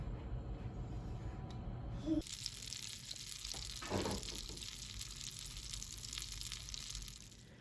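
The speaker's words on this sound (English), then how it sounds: "you're going to melt the butter down in your frying pan" Butter melting in a frying pan: soft sizzling starts up after a quiet moment, a steady gentle crackle with a brief louder burst partway through.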